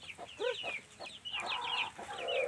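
A chicken from a breeding line clucks up close in a quick, uneven series of short, throaty calls, with a few higher squawks mixed in.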